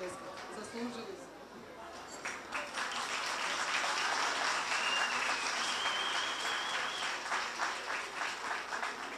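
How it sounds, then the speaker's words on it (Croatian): Sustained audience applause fills a folk ensemble concert at a festival in Čepin, starting slightly softer and swelling into dense, steady clapping that continues to the end, loud and close with a faint murmur of voices beneath. "slobodno još uvijek pljeskati."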